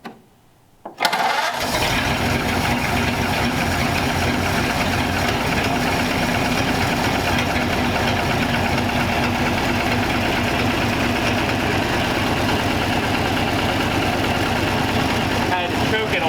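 A 1934 Ford engine catches after heavy choking and settles into a steady, rough idle, a loud continuous low rumble with a dense mechanical clatter that carries on without a break.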